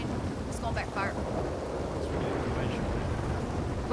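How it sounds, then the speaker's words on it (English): Rumbling thunder in the Red Dead Redemption world during a WildRP roleplay session, a broad continuous low roar with rain-like hiss that runs steadily throughout, with faint speech in the background. "I can't hear this fucking thunder."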